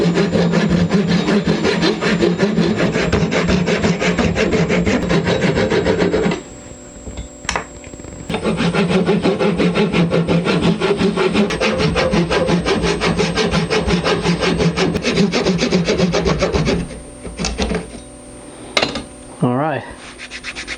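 Steady, rough rasping of a carved wooden swimbait fishing lure being sanded flush, loud and close, with brief pauses and a quieter stretch near the end.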